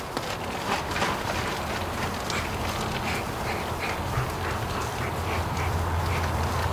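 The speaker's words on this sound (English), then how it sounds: "the ducks are deep in the bush over there." Free-range Muscovy ducks out in the bush, giving scattered quacks over a dense, steady hiss of outdoor background noise.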